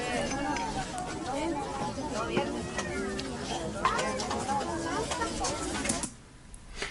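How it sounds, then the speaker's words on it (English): A crowd of people talking at once, a dense, indistinct babble of overlapping voices at steady level that thins out near the end. "I chose the noise of a crowd talking for mine"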